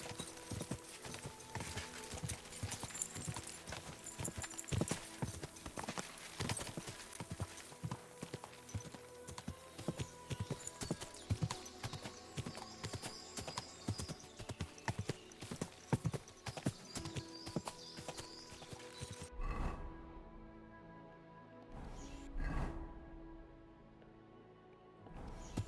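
Rapid galloping hoofbeats of a horse in the video game Kingdom Come: Deliverance II clatter steadily for most of the stretch, then stop, followed by a whinny and a few quieter sounds near the end.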